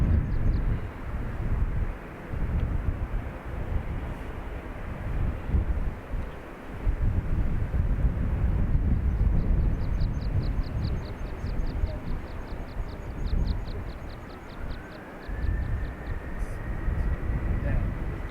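A Ryanair airliner takes off from runway 28 right at Dublin Airport with a loud, steady jet roar and wind buffeting the microphone, with a rising engine whine near the end.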